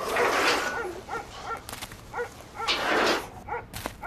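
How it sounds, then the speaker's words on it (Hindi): A dog barks several times in a drama scene, a run of sharp, fairly close barks spread across a few seconds over a steady background hum, with no clear talking. "मैं अम्मी के पास जा रही थी तो मुझ पर कुत्ता भौंकना शुरू हो गया।"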